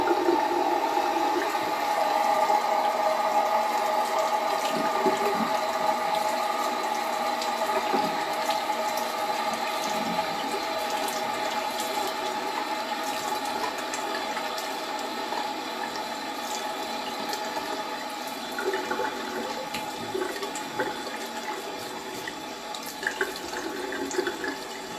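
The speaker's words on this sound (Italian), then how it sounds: "Mi sciacquo la faccia, ragazzi, con acqua freddissima" Very cold water runs steadily from a tap into a sink while a face is rinsed, a close, continuous rushing splash that lasts the whole stretch with no talking.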